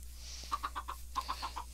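Chickens in the video game Minecraft cluck in two quick bursts of four short notes each, close and fairly clear over a low steady background hum.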